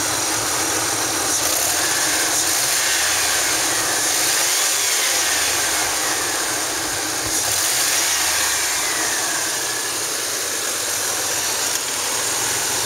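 A 1997 Ford F-150 XLT pickup with a 4.2 engine, automatic, four-wheel drive, rusted frame, idles steadily with a low, even rumble and broadband mechanical hiss, no speech throughout.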